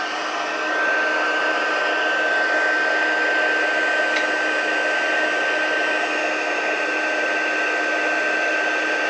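Heat gun warming an embossed card: a steady, loud blowing whir with a fixed whine, running continuously alone from start to finish.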